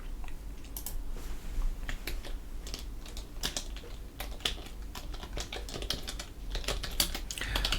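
Fast, uneven clatter of typing on a computer keyboard, close and fairly loud, with bursts of key presses and short pauses throughout.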